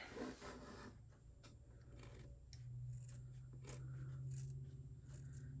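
Scissors cut through fabric for drawstring Santa bags, a series of close, crisp snipping strokes with a soft scraping texture and no talking.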